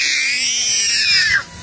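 A baby screams loudly in a single sustained, high-pitched cry that rises and then cuts off abruptly, heard close by with no talk over it.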